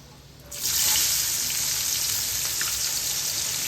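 500 grams of chopped onions hit hot oil spiced with cinnamon, setting off a sudden loud, close sizzle that holds as a steady hissing fry.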